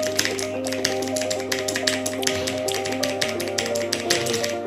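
A TVS Gold Prime Bharat mechanical keyboard with red switches clacks under a quick, uneven run of key presses, crisp and close with no voice over the typing.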